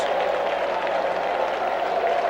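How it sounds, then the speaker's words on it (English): Baseball fans at Fenway Park applaud a player, a steady wash of distant crowd clapping and cheering that holds evenly through the moment. "the fans here at Fenway give him a big round of applause"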